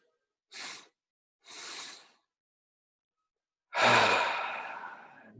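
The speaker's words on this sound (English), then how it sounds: "Breathing in all the way." Deep meditative breathing from one person close to the microphone: two short airy breaths, a pause, then a long, loud, slowly fading breath.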